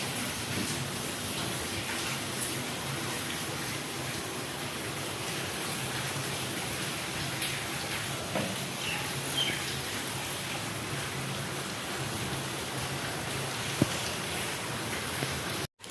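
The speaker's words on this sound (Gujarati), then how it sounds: "સવારનો કેટલો વરસાદ પડી ગયો છે." Steady morning rain falls for the whole stretch as an even, close hiss with no voices, and the level stays flat throughout.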